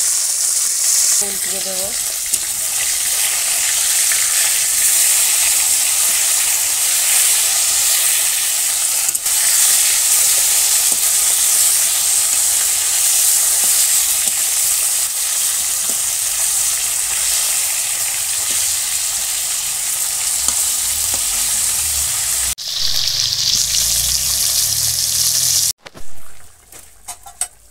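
Lyata fish hitting a hot pan of curry with beans and potato in a village kitchen, setting off a loud, steady sizzle and hiss that runs on continuously, with a brief spoken voice near the start.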